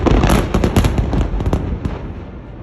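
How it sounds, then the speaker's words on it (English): Blasting at an open-cast mine in India: a heavy explosive burst with dense crackling pops and rumble, loud and sustained, fading over a few seconds. "The first mining blast you experience, you don't just hear it, you feel it inside your chest."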